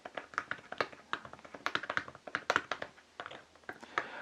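Typing on a Filco Majestouch mechanical keyboard, a quick irregular run of close, crisp key clacks with soft thuddy bottoming and no talking.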